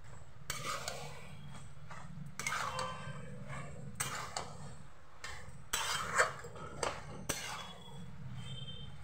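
Vegetables and puishak (Malabar spinach) cooking with fish head in a pan are stirred with a utensil, giving repeated rasping, scraping strokes at close range over a soft cooking background.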